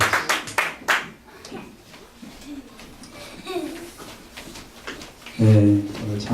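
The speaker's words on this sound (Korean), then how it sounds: "한번 박수로 격려하겠습니다." A church congregation claps during a Sunday service, with bursts of close clapping at the start, quieter scattered sounds in the middle, and a voice speaking near the end.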